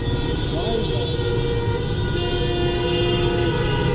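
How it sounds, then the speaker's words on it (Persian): Inside Mirdamad metro station in Tehran, a loud, continuous train rumble fills the platform, with sustained horn-like tones and a steady mechanical drone throughout. "اینجا مترو میرداماده."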